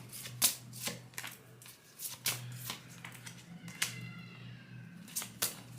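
Tarot cards being shuffled by hand, soft papery riffles and taps in short bursts, close and quiet, with a faint low hum underneath.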